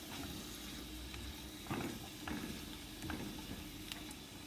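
Shrimp cooking in a pan for a shrimp scampi make a quiet, continuous sizzle with a few soft stirring scrapes and bubbling spurts, close by and without speech.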